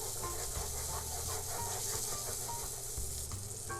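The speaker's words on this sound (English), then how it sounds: "Now we're going to get a good sear on it." Seasoned salmon sears in a hot pan, giving off a loud, continuous sizzle with crackling pops throughout.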